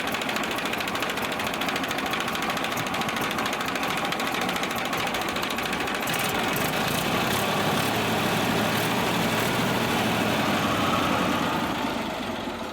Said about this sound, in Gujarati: બેસ્ટ કન્ડિશનમાં છે ન્યૂ હોલેન્ડ ટ્રેક્ટર છે